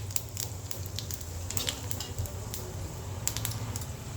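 Mustard seeds, urad dal and cumin crackle in hot oil, a steady dense patter of tiny pops and sharp spits throughout, close and moderately loud with no talking.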